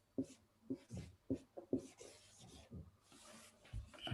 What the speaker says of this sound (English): Now, we will write the word ether down.